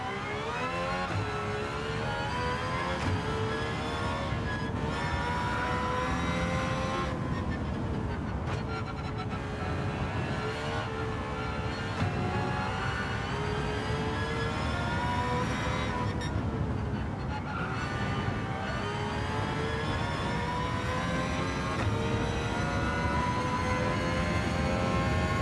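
Race car engines roar continuously in Gran Turismo 7, a steady loud drone with shifting revs and whine throughout the lap, with no voices over it.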